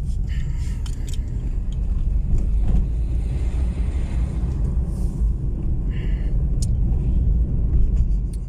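A car creeping along at about 20 km/h, heard from inside as a steady low rumble with wind buffeting the microphone, continuous and fairly loud throughout.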